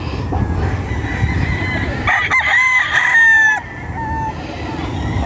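Roosters crow and chickens cluck on a hillside farm, one long crow rising loudly in the middle over a steady bed of background clucking and bird calls, with no talking.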